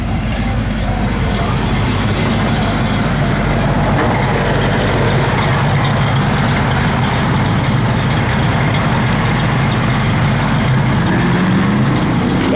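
A 1965 Ford Mustang engine runs at a steady idle, close and loud, with a constant low rumble that never changes pitch.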